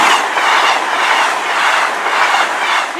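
A train rolls past a level crossing at Longhurst, a loud steady rush of wheels and carriages with rhythmic clickety-clack filling the whole stretch close by.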